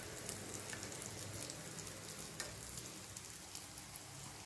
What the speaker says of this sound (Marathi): वड्या परतताना सुरुवातीला गॅस फुल ठेवायचा आहे